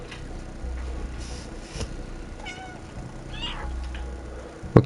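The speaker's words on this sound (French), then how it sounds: "Je peux quand même miauler, hein." A cat in the video game Stray gives a few short meows over a soft ticking background, close and clear, with a brief louder knock at the end.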